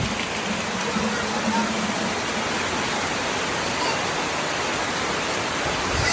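Rainwater pours from a hole in a roof gutter into a collection barrel at an off-grid jungle homestead in Guatemala during heavy rain, a steady, loud, hissing rush with no pauses and no voices.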